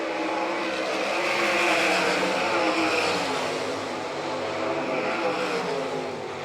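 Sprint race cars battle wheel to wheel down the back straight of a dirt oval at Doniphan, Nebraska, a loud sustained engine roar that swells and fades slightly as the pack passes.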